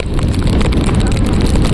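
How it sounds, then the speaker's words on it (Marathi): Loud, constant roar of strong monsoon wind buffeting the microphone on an open plateau, a dense rumbling rush with no letup. "खूप सारं वारं आहे."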